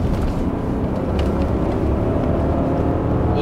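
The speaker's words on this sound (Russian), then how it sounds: "Вот сейчас мы уже слышим мотор." A loud, deep V8 engine roar fills the cabin of a Lexus LX 570 SUV, a steady low rumble building as the vehicle accelerates, with no talking.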